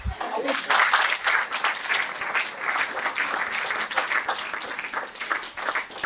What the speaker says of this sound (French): Ça va avec quelques applaudissements, non?